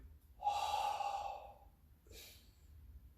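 Quiet breathing during karate mokuso meditation: a long, soft exhale followed after a short pause by a quicker, fainter inhale, close and isolated.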